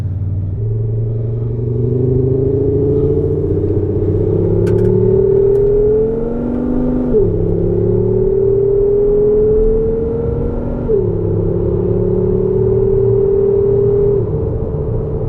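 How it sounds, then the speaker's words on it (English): Audi RS3 five-cylinder engine with Richter X-Haust exhaust, a loud, close droning note that climbs steadily through several gear-like rises and drops, with no talking over it. "Next one has to be a favourite of ours, the 5-cylinder Audi RS3."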